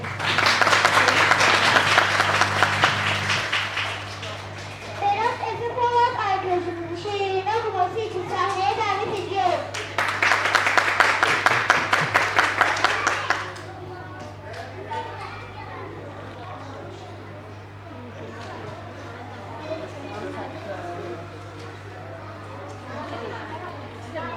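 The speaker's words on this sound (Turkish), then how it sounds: "Şimdi sizlerden birer sınıfına için kocaman bir alkış istiyorum." Applause for the classes at a school reading day event, with broad clapping bursts from the crowd mixed with children's chatter and cheering, sustained loud stretches separated by murmuring voices.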